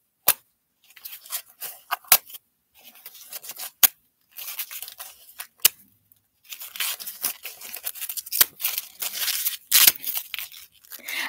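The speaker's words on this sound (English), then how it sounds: "I love playing with foam stuff when that comes in packages. I rip it." Foam packaging material being torn and ripped by hand, close by in a quiet room: sharp crackling rips in uneven bursts, sparse at first and then denser and more continuous toward the end, with no talking.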